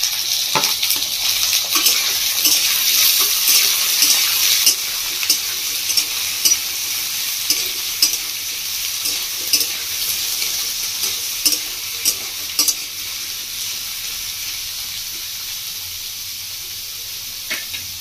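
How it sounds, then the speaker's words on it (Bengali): Chopped capsicum, cauliflower, carrot, peas and beans hit a hot pan for paneer pasta, giving a loud close sizzle at first that settles to a steadier hiss, with intermittent stirring scrapes. "আমি দিয়ে দিচ্ছি সবজিগুলো।"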